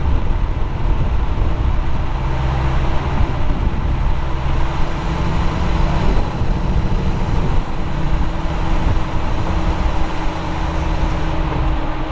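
Vehicle engine held at full throttle during an off-road recovery, a loud, steady roar with a low rumble that runs unbroken from start to finish, close by with no pauses.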